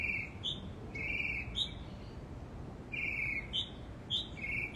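Birds singing outdoors: repeated short bright chirping phrases come in two bursts, moderately distant and soft, over a steady low background hiss, with no voices.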